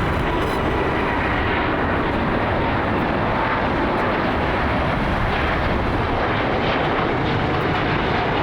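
A Japan Airlines Boeing 787 Dreamliner in oneworld livery at LAX produces a loud, continuous jet engine roar that stays steady and close throughout, with no voices.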